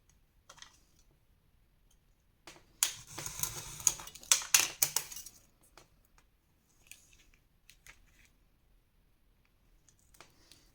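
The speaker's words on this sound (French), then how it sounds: "Vous allez couper sur cette ligne ici." Scissors cut paper along a marked line for a Harry Potter pop-up scrapbook album page, giving a few seconds of quiet, crisp snipping mid-clip with near silence around it and no talk.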